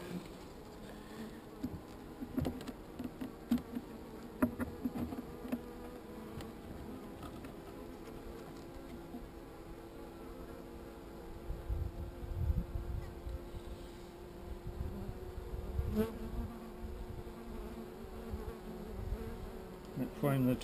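Bees swarm around a newly installed hive at Goose Wood, giving a continuous low buzz with single insects droning past close to the microphone. Faint outdoor background sits under the buzzing, and no talk is heard.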